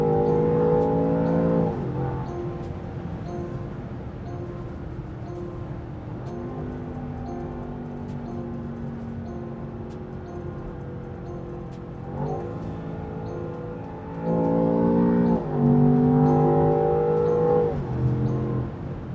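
A Land Rover Defender Octa engine drones loud and steady up close, its pitch climbing in revs around the start and again twice later, with a harder surge near the end.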